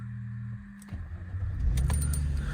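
A 2001 Mercedes-Benz SLK 320 roadster is started with the key: a brief jingle of keys, then the starter and the engine catching and settling into a low, steady idle close by.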